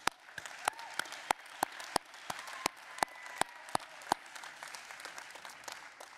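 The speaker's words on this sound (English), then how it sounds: "Give them and yourselves a big round of applause, please." Sparse audience applause at a talk on responsible technology, individual crisp claps ringing out irregularly over a quiet hall, a small scattered group rather than a full ovation.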